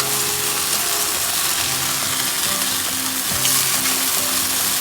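Fish fillet pan-frying after being flipped, a steady broadband sizzle filling the whole stretch with faint ticking and clinking of the pan underneath.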